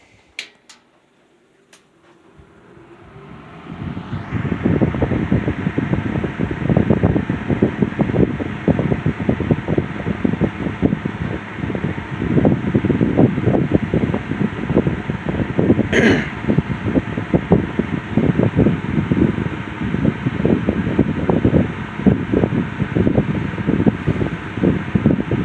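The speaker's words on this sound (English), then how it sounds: "Fan has improved a lot. It's very quiet now." A restored 1950s Lasko window fan starts up and settles into a steady, even whir. A low rumble with light rhythmic ticking runs underneath, and no one speaks.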